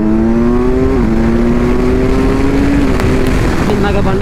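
A Kawasaki Ninja 1000SX motorcycle ridden hard, its engine note rising steadily in one long loud pull with a brief dip at a shift, buzzing close and strong under wind roar.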